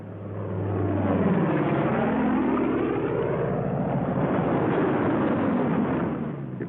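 World War II P-47 Thunderbolt fighter planes flying low to land, a loud roaring engine drone that swells and shifts in pitch as they pass close overhead.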